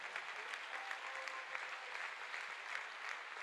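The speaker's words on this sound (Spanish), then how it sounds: "Dele un aplauso al Señor en esta hora." A church congregation at an IPUC convention in Cali applauds in a dense, sustained wash of clapping heard from a distance, steady throughout with no voice above it.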